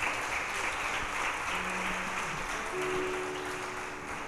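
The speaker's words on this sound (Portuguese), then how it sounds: "Aplauda o Senhor" Church congregation applauding during a service, a steady wash of clapping throughout with faint tones in the background and no speech.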